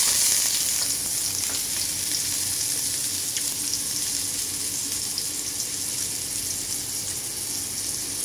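Garlic frying in a pan after ginger for broccoli with igado, a close, steady hissing sizzle with light crackles and occasional stirring, no voices.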